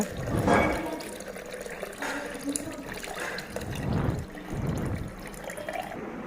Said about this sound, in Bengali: তো আমি এখানে গুড়ের পানিটা ঢেলে দিব।